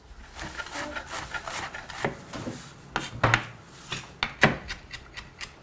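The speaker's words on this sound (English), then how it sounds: "Well, I do need to chop a little bit." Fresh parsley chopped with a knife on a board: a quick, irregular run of close, crisp knocks and scraping rubs, with no talk.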